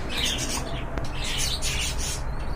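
Short raspy squawks and calls from pigeons come in a few bursts, close by, with a faint low background hum.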